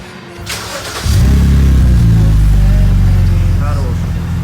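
A BMW E60 sedan with an N52 straight-six and a Supersprint exhaust cranks and fires up after about a second, then settles into a loud, deep, steady idle close by, with a voice briefly heard before it starts.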